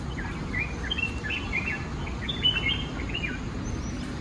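Scattered high chirps and tweets from birds outdoors near Dapoli, moderately distant, over a low rumbling background; no speech.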